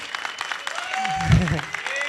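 Audience clapping at a film press meet, a steady patter of many hands at moderate distance with a voice talking over it.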